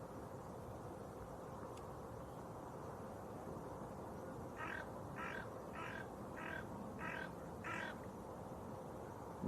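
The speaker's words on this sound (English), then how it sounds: "Noisy crow." A crow caws six times in a steady, evenly spaced series, moderately close, over a constant low background hum near an airport, with no talking.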